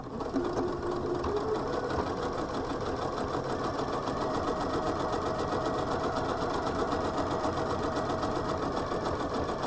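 A sewing machine runs a satin stitch with a continuous, rapid mechanical chatter, close and steady throughout with no voices over it.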